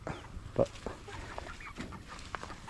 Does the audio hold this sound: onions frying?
no